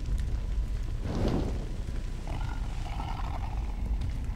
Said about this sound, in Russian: я слышу, что кто-то рычит